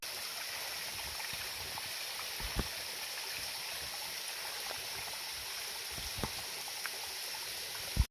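A stream spilling as a small waterfall across a hiking trail on the Appalachian Trail near Gooch Mountain gives a steady, even rush of flowing water, with a few faint knocks and a sharp bump at the very end.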